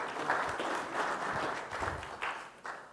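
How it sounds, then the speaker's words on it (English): Conference audience at a TechEd New Zealand 2012 session giving a round of applause for a departing speaker, a dense, moderately loud wash of clapping that fades slightly toward the end. "Let's give him a round of applause."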